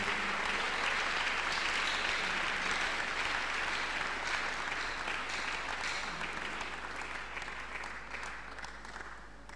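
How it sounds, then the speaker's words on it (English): Worshippers at a Tuesday miracle service clap unto God after a testimony, a continuous broad burst of applause holding steady and easing slightly toward the end, with a low hum beneath. "Let's clap unto God and appreciate him."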